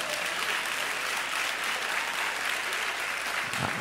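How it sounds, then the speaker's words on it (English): Applause from a church congregation during a sermon, a steady broadband wash of many hands clapping that holds evenly for several seconds without voices. "I got two claps."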